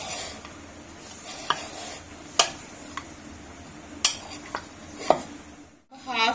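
Chopped vegetables being stirred and tossed with spices for dhaba-style kadhi chawal, sharp scrapes and clinks of a spoon against a bowl at an irregular pace over a low steady hiss, with a brief louder knock near the end.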